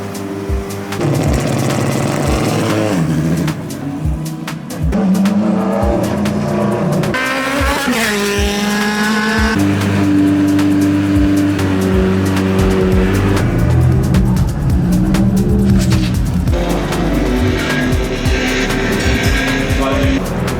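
Several Formula Open race cars idle and rev together in the Taupo pits at the 2024 final round, loud overlapping engine drones rising and falling in pitch with sharp throttle blips throughout.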